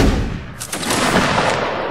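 A line of muskets firing a volley in the video game Mount & Blade: Napoleonic Wars, loud sharp cracks piling into a rolling burst that carries on for the full two seconds.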